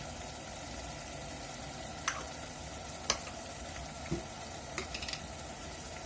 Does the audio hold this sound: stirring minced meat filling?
yes